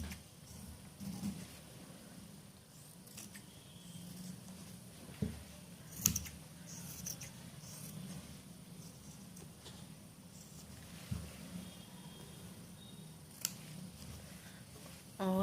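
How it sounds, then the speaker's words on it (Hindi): Scissors snip through the inner fabric of a blouse in sparse, sharp cuts spread over a quiet stretch, with faint handling noise between them. "इस अंदर वाले कपड़े को हमें काट देना है"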